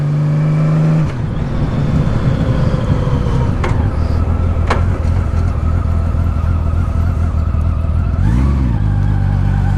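A 2000 Honda Valkyrie Interstate motorcycle pulls uphill in high gear at low revs, its engine a loud, continuous low drone that steps in pitch near the start, with a brief rise late in the clip.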